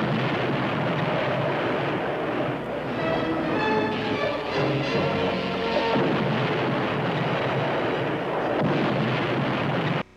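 A cartoon laser weapon fires at an undersea reef with a loud, sustained roaring blast that holds dense and steady for about ten seconds, with wavering tones inside it, then cuts off abruptly.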